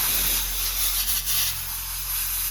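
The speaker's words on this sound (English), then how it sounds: "I hooked up my compressor, and I'll just quickly clean off the surface." Compressed air from a shop air compressor blasts over the sanded carbon fiber splitter of a 2023 C8 Corvette: a close, steady, loud hiss lasting the whole moment with no voices.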